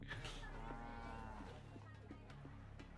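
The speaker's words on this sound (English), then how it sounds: "There's a cow." A cow moos in a strategy video game, the long lowing call sustained for over a second over steady game ambience and scattered clicks, with no one talking.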